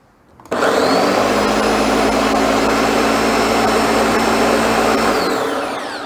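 A kitchen blender on its low setting whirs through banana bread batter, starting abruptly and holding a loud steady motor drone for several seconds before easing off slightly at the end.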